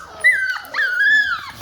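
Puppies give two close, high-pitched whimpering whines, the second longer and drawn out, with a brief yip between them.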